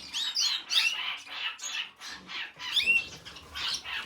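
Canaries and Gouldian finches chirp close by in a busy run of high, rapid tweets and short trills, rising and falling in bursts with brief gaps between them.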